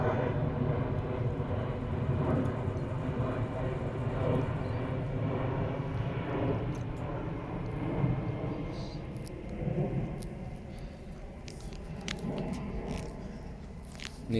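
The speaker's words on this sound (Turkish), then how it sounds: "Uçak da tam üstümüzden geçiyor" A steady, broad roar of an airplane passing directly overhead above a cornfield in Germany fills the whole stretch, with faint rustling and scraping noises close by.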